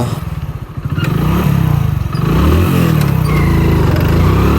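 A faulty motorcycle that barely runs idles and revs close by, a rough low throbbing that swells after the first second and holds steady and loud, with some clattering mechanical knocks.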